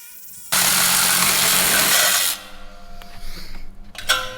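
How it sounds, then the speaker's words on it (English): A Sawzall reciprocating saw cuts off the exhaust tip of a quad-turbo street bike, giving about two seconds of loud, harsh, buzzing metal rasp that stops abruptly, followed by quieter shop clatter and a brief scrape. "we're going to go ahead and take the Sawzall and cut off the existing tip"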